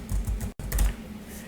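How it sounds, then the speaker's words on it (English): Keys tapped on a computer keyboard in a short, quick burst of close clicks, with a brief pause midway. "and then type in your name"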